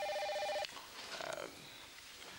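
A telephone gives one short electronic trilling ring at the start, which cuts off abruptly and is followed by faint room noise and a brief murmur.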